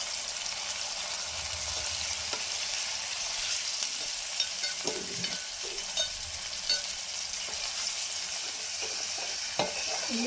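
Sliced onions and green chilies fry in hot oil with ginger-garlic paste and turmeric, a steady close sizzle broken by scattered stirring clinks and scrapes of a spoon against the pan.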